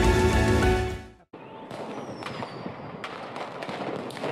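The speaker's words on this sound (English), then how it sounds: "Can you hear the sound of fireworks?" A loud sustained burst cuts off, followed by a rumbling field of distant fireworks crackling and popping with occasional sharper bangs.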